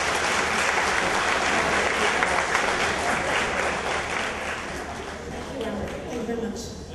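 A roomful of people applauds attorneys who do indigent defense work at an evening fashion show event, a loud, dense round of clapping that gradually thins toward the end.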